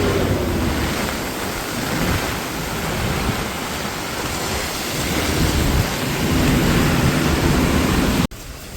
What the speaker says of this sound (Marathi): वारा बघा वारा